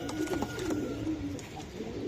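A teddy pigeon coos steadily and close by, a low, rolling, repeated call that runs the whole time with no talk over it.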